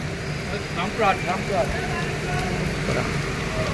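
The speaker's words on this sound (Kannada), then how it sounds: "ಮಳೆ ಅಂತೂ ಸಿಕ್ಕಾಬಟ್ಟೆ ಬರ್ತದೆ" Heavy rain falls during a Bangalore–Guwahati superfast express train journey, a steady dense hiss that runs throughout, with people talking over it.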